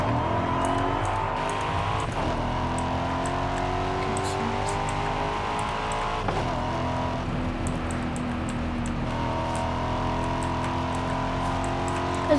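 Car driven in the video game Forza Horizon 5, a steady loud engine drone with rising revs that drop at each gear shift, sustained and close.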